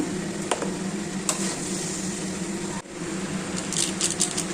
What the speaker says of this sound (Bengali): দেখো ইঁচড়গুলো বেশ ভালো করে কষিয়ে দিচ্ছি